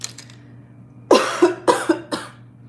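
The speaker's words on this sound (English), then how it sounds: "That lingering cough after being sick is like, it does not want to go away." A run of four or five sharp, raspy coughs in quick succession, close and fairly loud, with quiet background before them.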